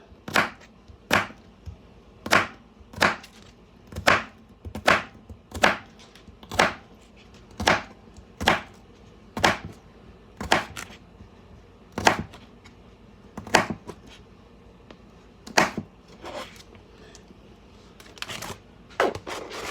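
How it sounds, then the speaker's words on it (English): A knife chops crosswise through halved vegetables on a cutting board in a steady run of sharp, close thunks, about one per second, slowing and thinning toward the end. "So I just cut it in half long ways, and now I'm going to cut across."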